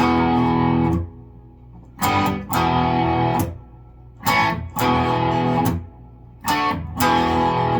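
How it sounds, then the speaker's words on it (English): Chugging, palm-muted distorted electric guitar chords played in short bursts with brief silences between, loud and close, strings muted with the palm just above the bridge saddles. "put the palm of your hand right here, right above your bridge saddles, and mute the strings"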